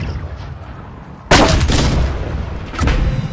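Ship cannons fire a broadside in the naval video game Blackwake: a sudden loud blast followed by a rolling, overlapping barrage of booms, with a second burst near the end.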